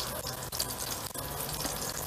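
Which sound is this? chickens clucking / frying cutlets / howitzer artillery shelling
frying cutlets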